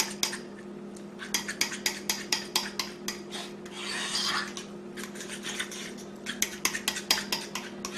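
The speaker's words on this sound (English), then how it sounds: "Pick your bowl back up and continue to press the eggs into the bottom." Boiled eggs being pressed down into the bottom of a bowl with a utensil for deviled eggs, a run of quick, close scraping and tapping strokes against the bowl with a brief rougher rub in the middle, over a steady low hum.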